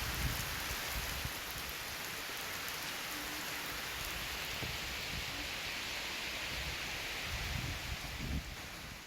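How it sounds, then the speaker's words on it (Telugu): Heavy rain falls with gusty winds in a Telangana district, a dense and continuous hiss of drops pelting surfaces with no pause from start to finish. "పలుచోట్ల ఈదురుగాలులతో కూడిన వర్షం కురిసింది."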